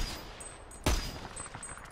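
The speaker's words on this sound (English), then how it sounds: "Artillery." In the shooter Dirty Bomb, a single sharp artillery blast cracks out mid-clip over a steady backdrop of distant battle noise.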